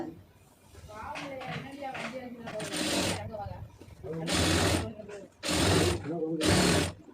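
A sewing machine stitches fabric for a puff sleeve in short bursts of rapid whirring, with pauses between runs, as someone talks over it.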